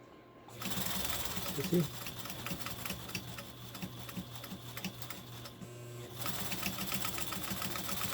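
A Pfaff 130 sewing machine runs steadily with a fast, even mechanical whir and ticking that pauses briefly and then resumes, while a person speaks over it.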